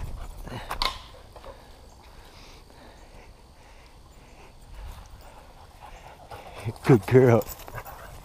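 A dog fetches a thrown stick and pants, with faint breathing through the middle and a louder burst of panting and movement near the end, while a person speaks briefly.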